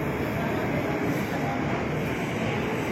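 An electric commuter train (KRL Jogja–Palur) rumbles steadily and loudly at close range in a station, a constant broad roar with no break and no speech.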